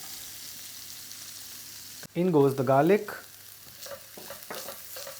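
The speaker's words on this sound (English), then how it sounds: "After it starts sizzling, we can now add in our onion." Onion sizzling in butter and oil in a pan, crackling up loudly as it is stirred in, with a person speaking briefly over it.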